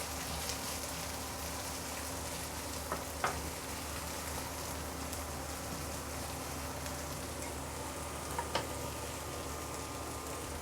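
Onion fries in a pan with a steady, dense sizzle throughout, broken by a few faint clicks of stirring. The sound is close and continuous, and nobody speaks.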